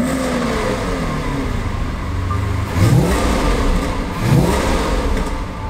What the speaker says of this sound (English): As you can hear, that normally aspirated V12 sounds fantastic